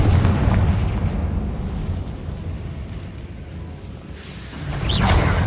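Confringo blasting curse in Hogwarts Legacy, a loud booming burst that rumbles through a low broadband wash, fading slightly and then swelling again with a fresh blast near the end.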